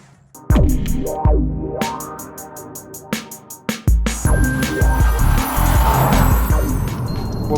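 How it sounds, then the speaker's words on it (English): Jaguar F-Type V6 S sports car with 375 brake horsepower, driven hard: loud engine revs rising and falling in quick bursts with sharp gear-change cracks, then a sustained roar with some tire noise, close to the microphone. "This F-Type is the V6S. It's the midpoint of the range between the V6 and the V8."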